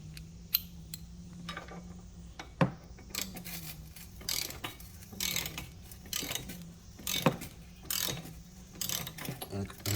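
A ratchet fitted with a T40 bit works a factory screw out of a Can-Am Ryker, giving quick clicking bursts with short pauses and a few sharper clacks, close by and moderately loud.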